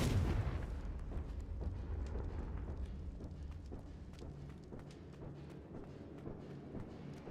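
A Confringo blast spell explodes in Hogwarts Legacy, a heavy rumbling boom at the start that decays into a long crackling, debris-like roar with no voices.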